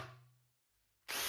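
A power drill pre-drilling screw holes in a wooden table: a whirring burst trails off into a brief pause, then the drill kicks in loudly again right at the end.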